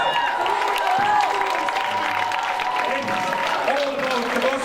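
Steady audience applause fills the hall at the Noored Tähed 2015 talent show, continuous clapping with some cheering that holds throughout at moderate loudness.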